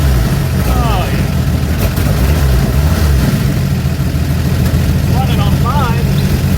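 A 1974 Dodge D100 six-cylinder engine idles roughly on only five cylinders, a loud, uneven low rumble running throughout while people talk over it.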